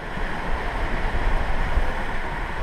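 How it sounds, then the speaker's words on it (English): Large ocean waves rushing around a sailboat running downwind at night, a loud continuous wash of water and wind noise with no talking. "It's hard to run downwind with these massive waves, especially in the dark."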